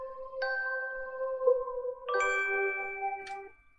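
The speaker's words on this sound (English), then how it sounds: "And those little bells." Little bell tones in a song's verse, bright chiming notes struck in a few phrases over sustained synth tones, clean and moderately loud with no voices.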